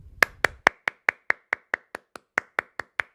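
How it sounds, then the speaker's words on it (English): Sharp hand claps tapping out the rhythm of the opening bar of Bach's Invention No. 2, about fourteen crisp claps in a steady, slightly uneven pattern, close and alone. "If I were to clap the rhythm of this first bar"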